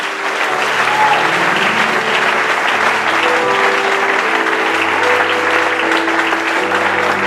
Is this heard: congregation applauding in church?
yes